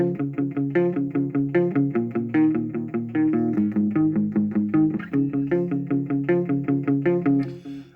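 Distorted electric guitar plays an intro, a quick run of evenly picked notes in a steady rhythm that ends with a ringing strum.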